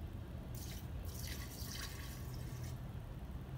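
Alcohol is poured into a container while making homemade hand sanitizer gel, a short, splashy liquid stream in bursts over a steady background hiss, close by and with no talking.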